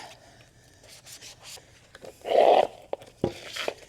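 A Scrub Daddy sponge scrubs a surface in a brief, fairly loud rubbing burst, preceded and followed by quieter scattered rustles and light knocks.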